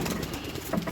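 Pigeons leave a racing loft in a brief, close burst of cooing and soft wing flutter that lasts only a moment.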